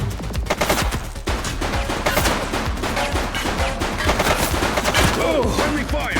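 Dense, rapid gunfire from a police shootout in the video game The Precinct: overlapping bursts of automatic shots and sharp single cracks fire continuously, loud and close, with almost no pause.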